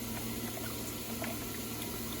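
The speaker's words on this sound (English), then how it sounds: "We've got water coming into the system." Water trickles and flows steadily into a Kratky hydroponic system built from pipe and fittings with ball valves, a constant bubbling wash at moderate level with no voices.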